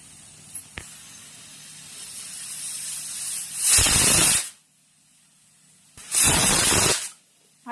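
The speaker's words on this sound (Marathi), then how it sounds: "तर आता कुकरच्या 2 शिट्ट्या करून घ्यायच्या आहेत" A small pressure cooker cooking parboiled rice gruel lets out two loud, steady hissing blasts of steam, each lasting under a second, with quiet between them and no talking.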